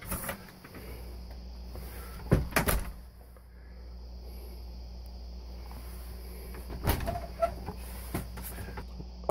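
A Home Depot bifold door being folded shut inside a converted bus, heard as two short bursts of clattering and rubbing a few seconds apart over a quiet hum, with no talking.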